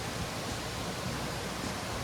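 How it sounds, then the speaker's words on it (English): Deep Creek water rushing along a mountain trail in the Appalachians, a steady broad hiss of flowing water, fairly faint and unbroken, with no voices. "So we are down here at Deep Creek"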